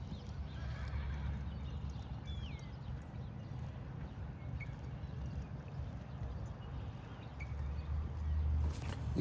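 Horse moving at a lope in an arena, with soft muffled hoofbeats under a steady low rumble of wind or ambient noise. One brief high whinny-like squeal is heard, and the sound swells slightly near the end.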